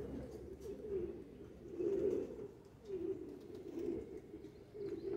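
Racing pigeons coo in soft, rolling phrases from a nearby loft, with several swelling coos repeating roughly every second over a steady low murmur of birds.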